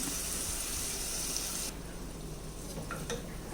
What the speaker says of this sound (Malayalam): അത് വെള്ളത്തോടു കൂടി നമുക്കിതിലേക്ക് ഒഴിച്ചു കൊടുക്കാം